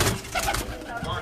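Cross-bred banded pigeons coo close by in soft, throaty bursts, with faint talk in the background.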